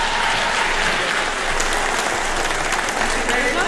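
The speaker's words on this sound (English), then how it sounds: "You can clap for them." Guests break into loud, steady applause right after the vows and ring exchange at a wedding ceremony, a continuous close burst of many hands clapping with some voices mixed in.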